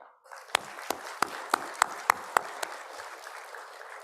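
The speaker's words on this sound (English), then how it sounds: "Please give a big applause to appreciate all of our hard work." Audience applause in a hotel conference hall at the C20 Civil 20 Summit 2022 in Bali: steady crowd clapping with several sharp, louder individual claps standing out at a regular pace through the first half, then a softer patter to the end.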